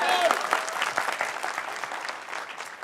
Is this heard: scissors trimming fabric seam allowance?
no